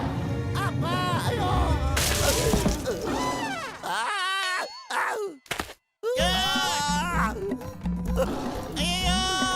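A cartoon character from Motu Patlu imitates a sheep, producing wavering bleat-like cries in several bursts, with other voices talking and exclaiming around them over background music.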